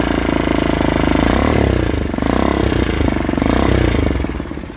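A faulty Kawasaki Barako 2 first edition motorcycle engine running loud and close, a rough, rapid clattering idle that stays steady throughout, with no talk.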